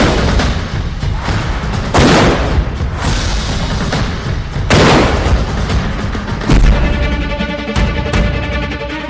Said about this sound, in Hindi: और ये देखिए इस वक्त राउंड, और ये है इंडियन फील्ड गन की ताकत।